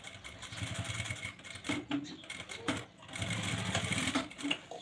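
A sewing machine stitches the back pocket of a pair of pants, running in steady whirring bursts broken by short pauses as the fabric is positioned, close and fairly quiet.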